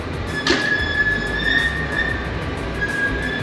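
A train at the Charles de Gaulle airport rail station, with a steady rumble and a high metallic wheel squeal sustained throughout, plus a brief sharp clank near the start, heard close and alone.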